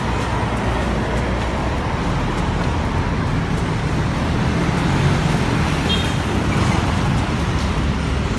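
City road traffic waiting at a traffic light in Cebu City, a loud, steady wash of engine rumble and road noise with no break, occasional faint vehicle tones rising within it.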